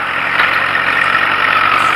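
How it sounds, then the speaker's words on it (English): Ford 8N tractor engine labouring steadily in low pulling gear on a wet field, a close, constant droning hum without pause. "I've got the tractor in low gear, you know, the pulling gears"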